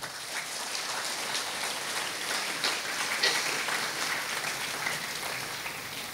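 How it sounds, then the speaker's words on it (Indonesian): Applause for teachers at a National Teachers' Day school ceremony in Indonesia, a steady dense crowd clapping that sounds like rain, continuous and moderately distant for the whole stretch, with no talk. "Tepuk tangan buat Bapak Ibu guru."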